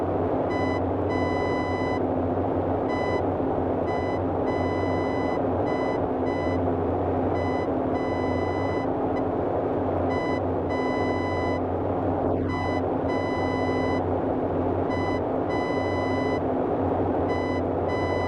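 A steady run of regular electronic beeps from a navigation beam signal in Microsoft Flight Simulator 2020, sounding over the constant drone of a Boeing 247D's engines for the whole stretch, with no talking.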